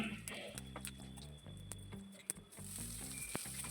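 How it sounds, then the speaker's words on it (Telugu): Mustard seeds, dals, dried red chillies and curry leaves fry in hot oil with a steady crackling sizzle, joined by a few brief spoon stirs and pops, close up with no talk. "కొద్దిగా కరివేపాకు కూడా వేసుకోవాలి."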